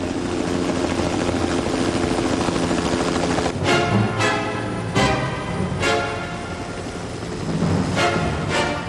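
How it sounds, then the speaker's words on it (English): A helicopter flying in high winds of an approaching storm over a river valley, heard as a loud, close, continuous rotor and engine roar with rhythmic blade thumps and gusty buffeting, no talk. "Buffeted by the high winds of the approaching storm, the helicopter could easily be blown into the trees"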